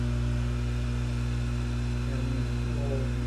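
A Tecomec FL-136 chain sharpener's grinding wheel spins up for sharpening a chainsaw chain, giving a steady, close electric motor hum with a strong buzzing drone that holds constant and alone for the whole stretch.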